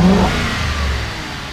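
A Ford Crown Victoria police car engine revs sharply once up close, then settles back toward a steady idle in a short, loud burst.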